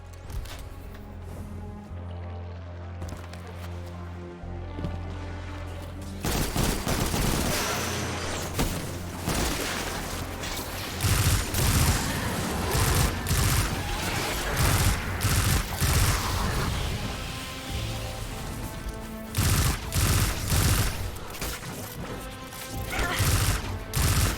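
Sustained, loud pulse rifle gunfire from Destiny 2, with rapid bursts of shots and crashing impacts that run almost continuously after a quieter opening, with faint speech in the background.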